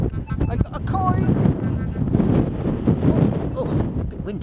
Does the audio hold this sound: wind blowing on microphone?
yes